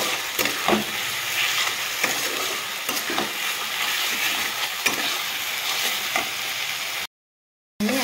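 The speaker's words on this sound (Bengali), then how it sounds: "মশলার সাথে আমি আলুটাকে একটু 5 মিনিটের মতো কষিয়ে নেব।" Spiced potatoes fry in a pan for a Bengali katla fish curry, giving a steady close sizzle with scattered stirring clicks and scrapes before a brief gap of silence near the end.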